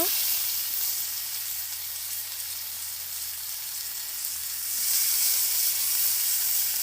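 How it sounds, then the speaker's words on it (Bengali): Chopped onion sizzles steadily in hot oil, making a continuous close hiss that swells a little louder near the end, with no voices. "পেঁয়াজ কুচি দিয়ে দিল"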